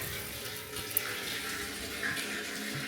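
Water runs steadily from a tap, a continuous close splashing flow with a faint metallic clink partway through.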